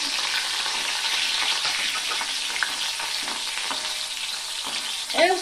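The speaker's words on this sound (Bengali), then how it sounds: "আর এখানে কিছুটা কাঁচা লঙ্কা নিয়েছি, লঙ্কাটা দিয়ে দেব।" Green chillies sizzle steadily in hot oil over a low flame, a dense continuous frying hiss with a brief louder crackle and stir near the end; no one speaks.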